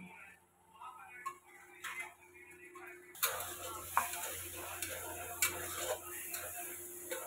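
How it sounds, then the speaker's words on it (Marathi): Tomato paste with cashew and chili being sautéed in oil: a faint tapping at first, then a steady sizzle with intermittent stirring clicks of a spoon against the pan, close by. "आणि याला चांगलं परतून घेणार आहे, तेल सुटूस"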